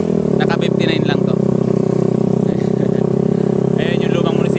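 A motorcycle rides slowly through the town of Biñan, Laguna, its engine giving a close, steady, buzzing drone throughout with no pauses, and faint higher clattery bursts now and then.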